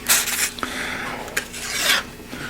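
Hand sanding with 150 grit sandpaper, close and fairly loud rasping strokes, a few long scrubbing passes separated by brief pauses and small taps.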